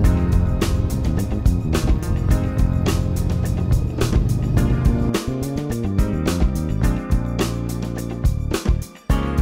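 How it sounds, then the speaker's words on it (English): Road traffic passing near Deception Pass, Washington, a continuous loud rumble of engines and tires that swells and fades as vehicles go by. "Sorry about the traffic, it's the nature of this beast."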